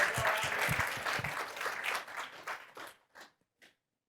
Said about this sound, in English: Okay, so Jessica, a big round of applause again.